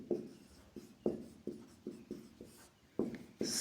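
Chalk or marker strokes on a board during a physics lesson, a close series of short scratchy marks in an uneven rhythm, with no talking over them.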